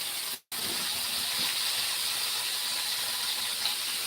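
Eggplant fries in hot oil with a continuous, even sizzling hiss, close and fairly loud, broken only by a brief dropout near the start before the frying noise resumes steadily.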